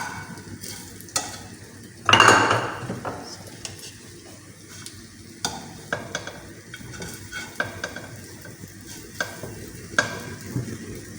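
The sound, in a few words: goat chops sizzling while frying in a pan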